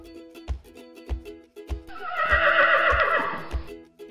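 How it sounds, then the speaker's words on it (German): A horse lets out a long, loud whinny over a steady rhythm of hoof thuds, with a faint tonal melody underneath. "Hey, schaut mal die Pferde! Die sind aber schön!"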